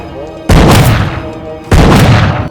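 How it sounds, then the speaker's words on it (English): Two loud, booming gunshots in a film, about a second apart, each trailing off in a long reverberant echo. "The gunshots alerted the police"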